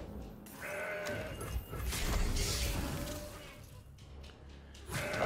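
A goat bleat for the Mountain Goat card in the Legends of Runeterra card game, heard amid a busy mix of game effects and music-like tones, moderately loud and continuous.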